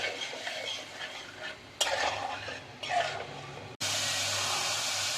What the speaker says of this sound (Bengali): এবারে মশলার সাথে ভালো মতো কষিয়ে নিব।